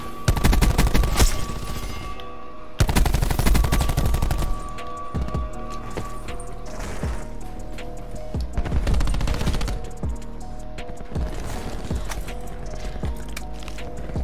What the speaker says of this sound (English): Today we're doing the no recoil gun, otherwise known as the Maddox.